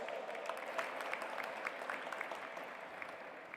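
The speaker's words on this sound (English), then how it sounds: "Please welcome her with a big round of applause" An audience at the G20 Interfaith Summit gives a round of applause, a dense, even crackle of many hands clapping at a steady level throughout.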